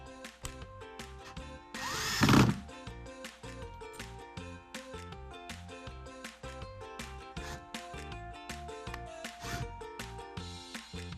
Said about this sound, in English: I have over here what you call an electric screwdriver